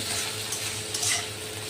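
Cauliflower and onion fry in a pan while being stirred, a steady close sizzle with scraping stir strokes, no voices.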